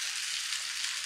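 Mutton kheema frying in a pan gives off a steady, close hiss and sizzle for a brief moment.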